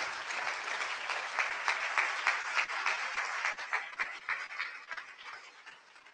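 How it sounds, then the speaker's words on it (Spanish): Church congregation claps together during a sermon, with fairly soft, rhythmic, uneven hand claps that swell and then taper off toward the end. "Un aplauso al Señor."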